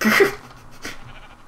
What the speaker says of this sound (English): Sheep in a tree.